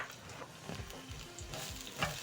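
Chopped onions fry in about two tablespoons of cooking oil over high flame, giving a brief, close, steady sizzle with faint stirring scrapes.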